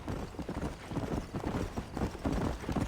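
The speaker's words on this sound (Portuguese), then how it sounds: "o barulho dos cavalos pisando no solo é horrível" Horse hooves clip-clopping steadily on the ground in the PC version of Red Dead Redemption, a dense continuous rhythm of dull thuds, close and fairly loud with no talking.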